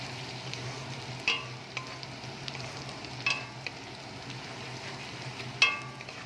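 Chicken with cumin powder stir-frying in a pan, a faint, low sizzle broken by a few brief scrapes and taps of a spatula.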